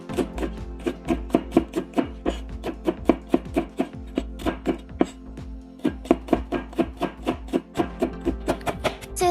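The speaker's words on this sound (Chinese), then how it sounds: "大蒜切碎。" Garlic is chopped with a knife on a board in a fast, steady run of crisp, close strikes, dozens of evenly spaced chops with only a brief pause, with no talking.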